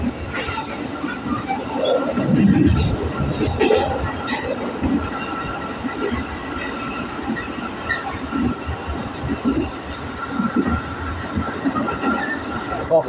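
A KRL commuter train departing Cakung station, Indonesia, rumbles steadily along the tracks with rhythmic wheel clatter and a low, continuous roar, heard from close by inside or beside the carriages.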